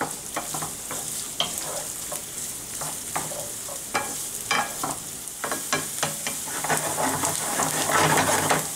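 Onions, garlic and capers sauté in a pan, a continuous crackling sizzle punctuated by repeated spoon scrapes and clicks that grows a little louder toward the end.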